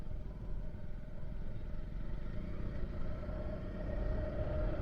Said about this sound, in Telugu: ఇంజన్ బ్రేకింగ్ కూడా వేస్తున్నా.